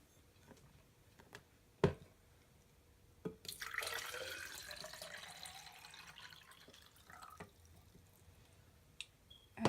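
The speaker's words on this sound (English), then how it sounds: "I will be pouring the water from one of these cups into a longer" Water poured from one cup into a taller cup during a conservation demonstration, a splashing, trickling pour of a few seconds after a couple of small taps, fairly quiet and close with no talking.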